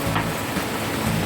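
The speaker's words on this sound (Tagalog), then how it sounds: "Ayan o, lakas ng ulan naman." Heavy rain pours down on a foggy mountainside at dusk, a loud, continuous hiss of drops hitting the ground and foliage close around, steady with no break.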